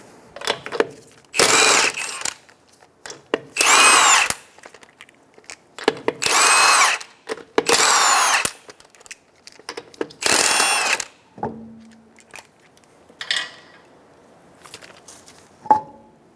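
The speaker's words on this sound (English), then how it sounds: "Go ahead and remove your 5 19-millimeter lug nuts." A power tool spins off 19 mm lug nuts from the front wheel of a 2012-2016 Subaru Impreza in loud, close bursts of rattling whir, about five runs separated by short pauses and small clinks.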